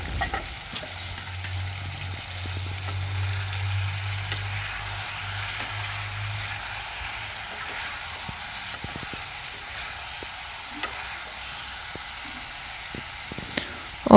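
Jackfruit curry cooks in a pan, a soft, steady sizzle and hiss running throughout, with a low hum in the first half and scattered faint ticks.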